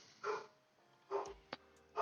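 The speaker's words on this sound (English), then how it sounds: "my dog's barking in the background" A dog barks in the background of an indoor room: three separate barks spaced under a second apart, faint and somewhat distant, with a small thump between them.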